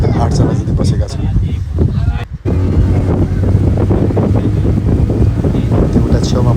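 A motor boat cruises through a mangrove forest on Bintan, its engine a steady low drone while gusting wind buffets the microphone throughout, broken by one brief dropout.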